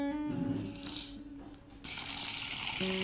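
Chickpeas, mung beans and lentils are rinsed in water with splashing and a running-tap gush, rising and dipping before surging steadily, up close and with no talk.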